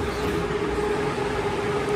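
A metro train at a station in Russia gives a steady, droning rumble with a constant tonal hum throughout.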